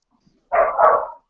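A single dog bark, a short two-part woof that is loud and close, breaking into an otherwise quiet room with no talking.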